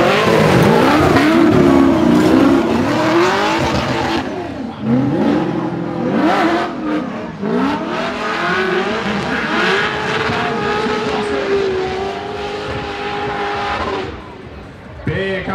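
Drift cars at a drift league round, one car accelerating hard through the gears with rising and falling engine pitch, loud and continuous, under commentary talk.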